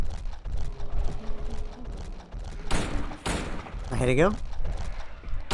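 In Silent Hill 2, regular pistol shots crack a few times amid shuffling, a creature screech and rumbling game sounds, while a player talks over them.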